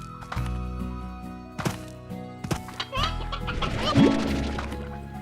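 Chickens clucking in the video game Slime Rancher, several short squawky clucks and bursts spread across the clip alongside game sound effects and a thump, no speech.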